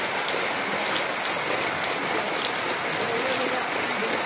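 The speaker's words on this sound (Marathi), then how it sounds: "पाऊस काय एवढा नाही मोठा" Steady rain pours down continuously, a dense hiss of drops on surfaces with no breaks or voices.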